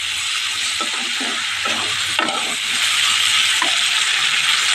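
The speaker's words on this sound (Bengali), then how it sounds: "দিয়ে এবার একটু হালকা করে ভেজে নিচ্ছি" Potatoes, onion, tomato and green chili fry lightly in a pan after a spice tempering, giving a steady close sizzle with soft stirring scrapes running through it and no talk.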